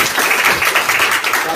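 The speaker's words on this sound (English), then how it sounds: "Please, round of applause." A university history department audience at a faculty book talk gives a brief round of applause, dense clapping filling the room steadily and fairly loud.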